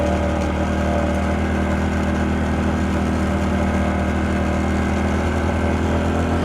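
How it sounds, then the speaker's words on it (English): A Honda Trail 125 motorcycle engine is held high in first gear on a mountain road, a steady loud drone that fills the whole stretch with no pauses or talking. "It seems like you're winding the bike out in first gear."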